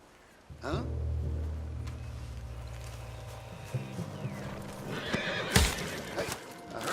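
A horse whinnies loudly in Red Dead Redemption 2, with hooves and game ambience underneath and a sharp noise near the end.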